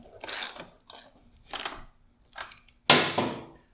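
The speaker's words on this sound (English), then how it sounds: "So last step is going to be to lock down our nut," Main axle nut on a motorcycle being locked down during chain adjustment: several short bursts of metallic wrench ratcheting and clicking, close and moderately loud, separated by brief pauses, with one sharper final clunk.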